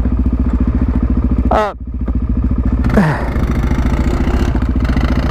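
A Suzuki DRZ supermoto motorcycle engine holds a steady, close drone in second gear at constant throttle, with a brief shouted voice over it partway through.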